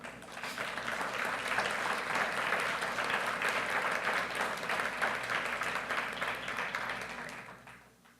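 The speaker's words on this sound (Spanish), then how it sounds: "Puede aplaudirle al Señor." A church congregation applauds during a worship service, steady dense clapping from many hands that holds for several seconds and then fades out near the end.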